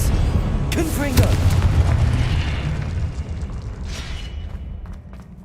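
Confringo, the explosion spell in the Hogwarts Legacy video game, goes off as a loud, rumbling blast that slowly fades over several seconds, with game effects and a shouted voice mixed in.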